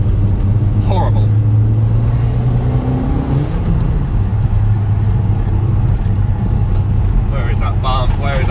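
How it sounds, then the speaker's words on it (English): A turbocharged car, a project Turdlido, accelerating on the road with a loud steady engine drone and interior rumble, while someone talks over it. "Oh, that, the way that turbo kicks in is lovely."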